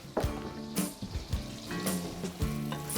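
Garlic sizzling in a pan while a grilled chicken and risotto meal is cooked, a steady crackling fry broken by several sharp clatters of utensil stirring.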